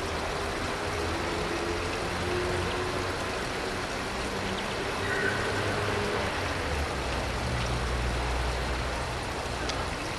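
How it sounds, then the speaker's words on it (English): Water flows steadily in an outdoor setting amid Jugendstil architecture, a continuous broadband rush without pauses, with low rumbling traffic or engine hum underneath and no clear talking. "Terence, I need the sound just of the water"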